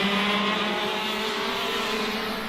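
KZ2 racing karts scream along the track at Kimbolton, a loud sustained high-revving engine drone that fills the whole moment with no breaks.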